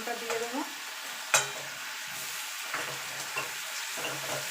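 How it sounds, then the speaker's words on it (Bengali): Garlic paste frying in oil in a pan after browned onions, a soft sizzle with scraping stir strokes and one sharp clatter near the start, fairly quiet and steady with no talking. "এবার রসুনটাকে একটু ভালো করে ভাজা ভাজা করে নেবো যতক্ষণ রসুনের কাঁচা গন্ধটা চলে না যাচ্ছে"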